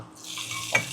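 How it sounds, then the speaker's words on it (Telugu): Hot tempering poured into tindora chutney and stirred, a brief rising sizzle that swells near the end with a short sharp hiss, close up. "వేడివేడి తాలింపుని పచ్చడిలో ఇలా కలుపుకోవాలన్నమాట"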